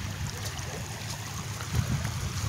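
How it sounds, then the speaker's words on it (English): Floodwater rushing through a swollen desert wash, a continuous broad wash of flowing water with a low rumble beneath, steady and close, rising slightly toward the end. "Look at this wash. I've never seen it this full."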